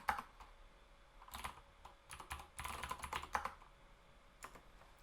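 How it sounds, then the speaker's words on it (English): A computer keyboard being typed on in short irregular bursts of close, crisp key clicks with brief pauses between them, no voices present. "I'm going to drag my keyboard over there and I'm going to type my password"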